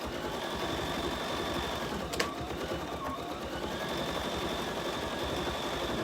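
An embroidery machine stitching out a design runs with a steady, fast mechanical hum and rattle throughout, close and continuous, with one brief sharp click partway through and no talk.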